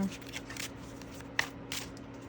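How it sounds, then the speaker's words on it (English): Tarot cards being shuffled up close, soft papery riffles and slides in a few short bursts with a faint hum underneath. "I'm going to shuffle these a little bit more."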